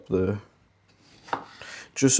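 Knife chopping small tomatoes on a chopping board, a few close, crisp cuts with a pause between them and soft rubbing of the blade in the gap.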